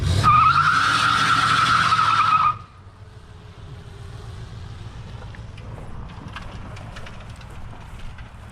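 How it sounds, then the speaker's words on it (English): A 1972 Buick Skylark on fresh, sticky tires gives a loud skidding squeal for about two seconds, then rolls on with a low road rumble and faint ticking as the tread flings up stones. "I can hear it picking up stones as he drives."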